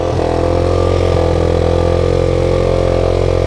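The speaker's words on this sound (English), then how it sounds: "See, that's it idling on its own." An ATV engine idles steadily close by, a constant low throbbing hum with a slightly high, even idle and no voices.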